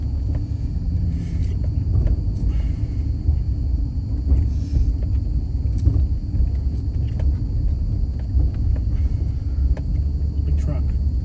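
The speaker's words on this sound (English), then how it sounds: "Big truck." A big truck rumbles past on a town road in Baytown, Texas, its deep low drone steady and close throughout, heard from inside a moving car with a voice talking over it.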